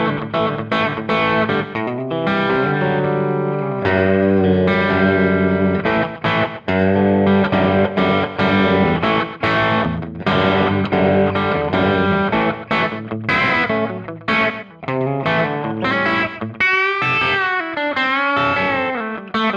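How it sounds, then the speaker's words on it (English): A distorted electric guitar plays a melodic line with a short, quick slapback echo trailing each note, loud and up close. "Hearing delay, so there's a little slap delay."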